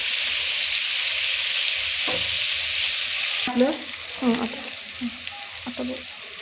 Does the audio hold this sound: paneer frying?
yes